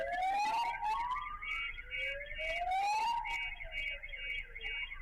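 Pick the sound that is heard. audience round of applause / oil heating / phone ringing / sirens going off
sirens going off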